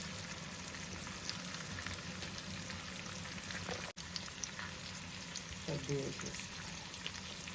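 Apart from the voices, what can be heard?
prawns frying in a pan for biryani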